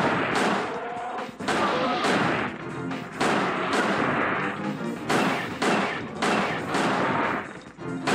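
Rapid gunfire in the video game Dino Crisis 2 fills the stretch, loud repeated shots and blasts in quick bursts with brief gaps between them.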